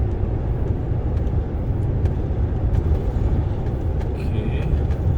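A DAF XF truck cruising along the road at a fair clip, its engine a steady low rumble blended with continuous road and tyre roar heard from inside the cab, with no talking.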